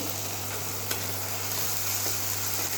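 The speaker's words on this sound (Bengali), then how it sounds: "মশলাটা কষে নিচ্ছি ভালো করে" Spice paste fries in a pan with a steady, bright sizzle. A few faint scrapes from stirring break through, with no voices.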